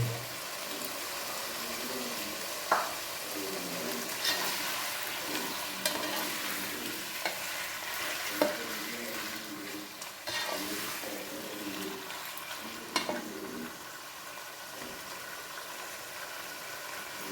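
Mutton sizzles steadily in a pan with curd added while it is stirred for a mutton pulao, with spoon scrapes and occasional clinks rising above the constant close frying hiss.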